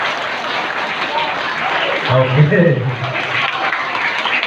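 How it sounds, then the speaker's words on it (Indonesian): Group clapping at an Islamic Ramadan camp gathering, a crowd clapping in a five-clap pattern repeated, dense and close, with a voice briefly speaking over it. "Tepuk 5 kali 5."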